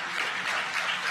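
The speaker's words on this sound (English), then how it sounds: "you can probably hear the cheering behind me" Steady applause and cheering from a crowd celebrating a Falcon 9 first stage landing, a dense wash of clapping with no distinct voices.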